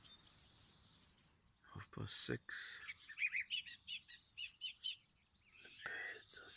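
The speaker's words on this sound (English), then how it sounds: "The birds are singing." Birds chirp and sing in repeated short high notes on a morning by a braided river, fairly faint and a little distant, with a soft voice and a few thumps partway through.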